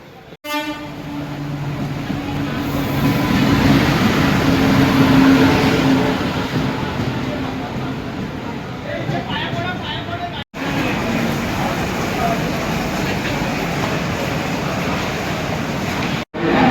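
A train rumbles steadily at a station with a horn tooting at the start, while a crowd of voices chatters throughout.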